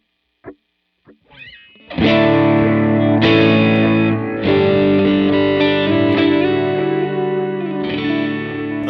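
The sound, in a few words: guitar through Adriatic delay, dotted eighth, Line 6 Helix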